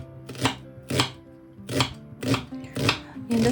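A knife thinly slicing an onion for soup, six crisp, close chops spaced about half a second apart on a board.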